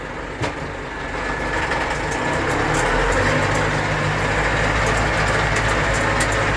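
KATA KE 504 tractor with a sprayer, engine running steadily with a low, even drone that builds slightly after the first second and holds, heard from inside the cab, no talk.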